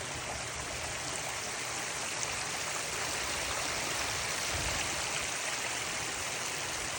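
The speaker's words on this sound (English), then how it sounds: "now that side looks like it's got a little bit more water flowing over it" Water pours steadily over dam flashboards at a lake, a constant, broad rushing wash without change or pause, moderately distant and free of speech.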